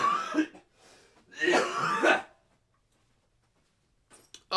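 A woman coughs hard in two bursts, loud and close with no talk over it, followed by silence and a brief faint noise at the end.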